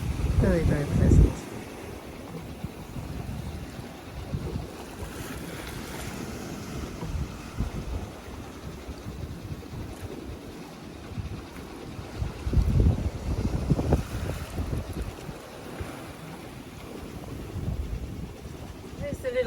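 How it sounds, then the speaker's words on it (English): A sailboat sailing in steady wind in French Polynesia, between atolls: continuous wind noise buffets the microphone and water rushes past the hull, with louder gusty surges now and then. "Beautiful day, nice wind, and we're sailing, and very pleasant."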